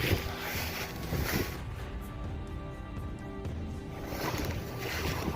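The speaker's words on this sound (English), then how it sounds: "I don't know if you guys will be able to hear me over this wind" Wind blowing outdoors, a loud, broad rushing roar that swells and eases in gusts, buffeting close throughout with no speech.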